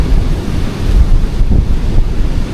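Strong wind gusts buffet an outdoor campsite during a Filipino cookout, a loud continuous low roar of rushing air and microphone buffeting with surges, sounding almost like surf, with no voices.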